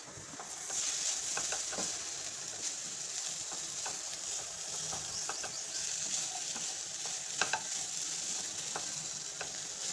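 Sliced carrots fry in a pan, a continuous close sizzle broken by frequent scraping and tapping strokes of a stirring spoon against the metal, with no speech.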